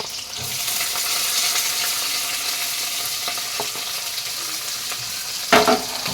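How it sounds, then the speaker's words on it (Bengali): Tempering with slit green chilies frying in a pan, a constant close sizzle with occasional light stirring taps and one louder clatter near the end, no speech. "তো বন্ধুরা, আমি ফোড়নটা ভালো করে ভেজে নিয়েছি।"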